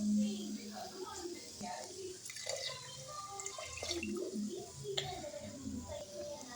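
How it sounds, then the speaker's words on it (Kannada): Four glasses of water are poured into a cooking pot of roasted ingredients and milk, giving a soft, faint splashing trickle with scattered drips and a low voice nearby. "ನಾಲ್ಕು ಗ್ಲಾಸ್ ನೀರು ಹಾಕ್ಕೊಂಡಿದ್ದೀವಿ."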